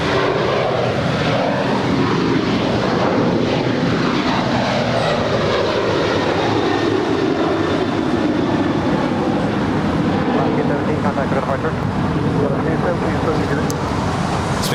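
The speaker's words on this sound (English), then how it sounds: "this is United Airlines Flight 33. It's a 787-9 Dreamliner landing up there on the north side" A United Airlines Boeing 787-9 Dreamliner lands on the north side at Los Angeles airport, its steady loud engine roar filling the whole stretch with a broad rushing wash, with speech heard faintly alongside.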